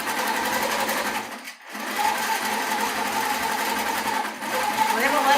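A sewing machine quilting a baby quilt runs in a loud, steady mechanical whir, briefly dropping out twice before resuming its continuous stitching drone, with a voice heard over it.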